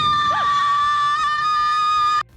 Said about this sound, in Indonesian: Langsung teriak lah dia.